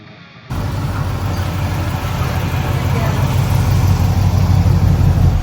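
A home-built car's engine starts abruptly and runs at a steady, loud idle close by, with a slight rise in intensity toward the end and no break in the drone.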